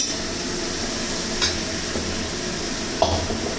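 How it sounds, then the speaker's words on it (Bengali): Masala spices with Kashmiri chilli powder being sautéed in oil and stirred in a pan: a steady low sizzle runs throughout, with a couple of brief scraping stirs of the spoon, close and moderately quiet, no talking. "মশলাটাকে কষাতে থাকলাম তেল ছাড়া আসা পর্যন্ত।"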